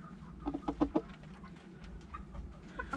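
Blue Shamo/Ga Noi hens cluck nearby in a quick burst of several short calls, with fainter clucks following against a quiet outdoor background.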